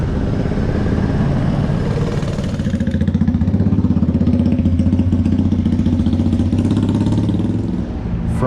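Motorcycle ridden around the Redneck Rumble event grounds on a Friday evening, its engine a loud, close, steady putter that pulses rhythmically and eases off briefly at the end.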